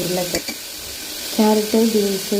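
Carrot, beans and potato sizzle in hot oil as they are sautéed and stirred, a short burst of frying hiss with bright tonal scrapes or squeaks in between.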